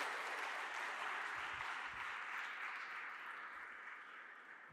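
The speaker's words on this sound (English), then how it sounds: "So please join me in applauding my colleagues." Sustained applause from a large audience, a dense wash of clapping that holds steady and slowly tapers toward the end.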